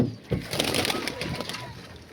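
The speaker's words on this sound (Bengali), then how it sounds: "এই যে পায়রাগুলো ভালো করে শখ করো" Pigeons cooing in a pigeon loft kept by a fancier, a run of soft low coos repeating close by and fairly steady across the clip.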